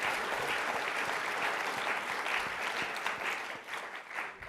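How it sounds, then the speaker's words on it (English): Audience applause for the panelists at an 80th anniversary end-of-war symposium, a dense steady wash of many hands clapping throughout, beginning to thin slightly near the end. "Let's have a round of applause for our panelists"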